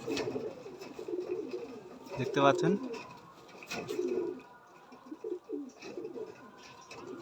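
Madrasi pigeons coo in a breeding loft, repeated soft throaty bursts close by, while someone talks over and between them.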